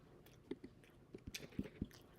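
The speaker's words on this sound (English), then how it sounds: "if you're going to hear me munching on something, it's just my dinner" Someone quietly munching on dinner, soft wet chewing and biting sounds in an irregular rhythm, close and faint with no talking.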